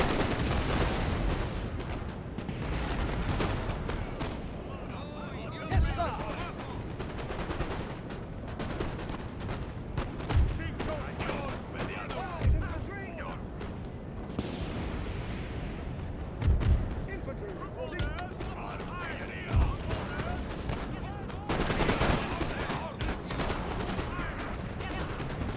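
Artillery fire in Napoleon: Total War booms out as several heavy, spaced shots above a dense, continuous din of battle, with speech mixed in.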